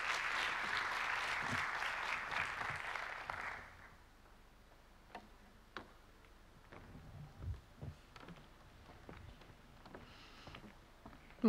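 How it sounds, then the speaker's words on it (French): An audience at a magic show applauds a volunteer coming up on stage, a steady wash of clapping for about four seconds that fades out, leaving scattered footsteps, taps and quiet room noise. "on va l'applaudir parce que c'est le seul courageux"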